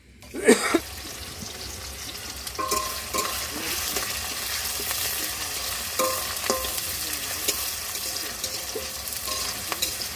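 Onion and capsicum pieces fry in hot oil at an outdoor New Year picnic, a steady broadband sizzle running throughout with stirring clatters and a sharp clank near the start.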